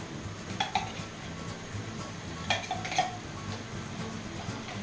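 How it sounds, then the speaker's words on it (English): A spoon stirs canned cream of mushroom soup into milk in a bowl, giving a few light clinks and scrapes against the dish at an even, unhurried pace, close by and fairly quiet. "So I'm going to take the soup and put it in the milk. I can mix it a little bit."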